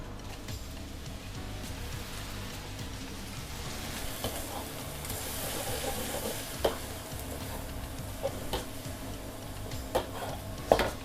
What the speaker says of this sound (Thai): อุ้ยกะทิเราเดือดผุดๆเลยนะคะ